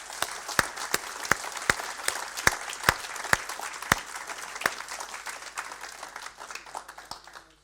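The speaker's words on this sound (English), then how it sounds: "let's give a round of applause to all the nominations and all to the winners" Steady applause from the audience at a company colleague awards ceremony in Nuneaton, with a dense wash of hands and several sharp, close claps standing out in a loose rhythm.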